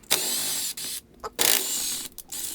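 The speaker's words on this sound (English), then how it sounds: "we can go ahead and actually just start loosening up all these 8mm bolts that hold on" Ratchet loosening 8mm bolts on the right side case of a four-stroke engine, several short, close, buzzy bursts of clicking separated by brief pauses.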